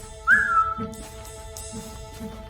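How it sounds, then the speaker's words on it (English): A whistle in the video game Wildfire gives two short, bright rising chirps, one near the start and another at the end, over a quiet, steady game backdrop with faint thumps. "Be quite close to doing the whistle"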